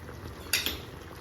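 A utensil scrapes and clinks twice against a cooking pan as village-style lobster curry is turned, two brief sharp metallic contacts over a soft steady sizzle.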